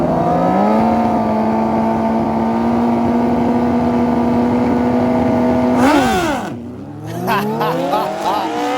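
Suzuki Hayabusa drag racing motorcycle on a wheelie run, a loud sustained high engine drone held steady for several seconds before the pitch sweeps and drops away as it passes.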